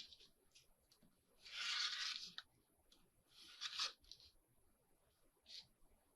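Collage board paper being cut, a few quiet close rasping cuts and rustling swishes in short bursts with pauses between, fairly faint, no talk.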